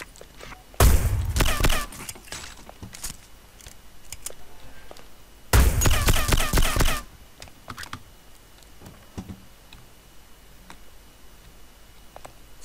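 Gunfire in the video game Hitman Blood Money: two loud rapid bursts of shots about five seconds apart, each lasting about a second, with quiet game ambience between them.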